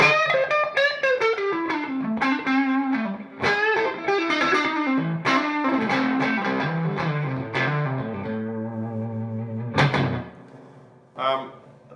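Clean electric guitar through a small Kauffmann Super 6 tube amp, a melodic run of single notes and chords with a warm, slightly bright tone and ringing sustain.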